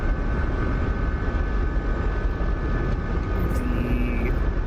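SA-342 Gazelle helicopter in flight in the DCS combat flight simulator, a loud, constant turbine and rotor drone with steady tonal whine, unbroken throughout.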